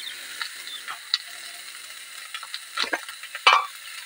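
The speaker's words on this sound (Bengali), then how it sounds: "আদা রসুন নেড়ে নেবো।" Ginger and garlic stir-fry in a pan, a quiet, sparse sizzle broken by scattered scraping and clinking strokes of a spatula, the strongest few clustered near the end.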